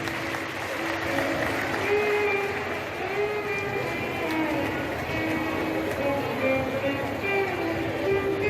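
Dense, sustained applause from a huge outdoor crowd welcoming a guru at a Shiv Puran katha on a fairground in Pushkar during rain, steady and loud throughout, with faint tonal music underneath.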